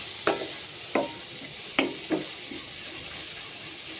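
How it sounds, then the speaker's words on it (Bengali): Mixed vegetables for fried rice fry in a pan under a constant sizzle, while four or five sharp stirring knocks of a spatula strike at uneven intervals, close and fairly loud. "দিয়ে ভালো করে নেড়ে এটা সেদ্ধ করে নিব"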